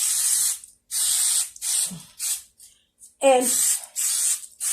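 Hairspray hisses in repeated bursts over styled hair, roughly seven close, loud sprays separated by short pauses, with a brief spoken word in between.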